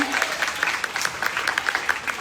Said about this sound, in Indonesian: tepuk tangan buat Wise Team untuk koreografinya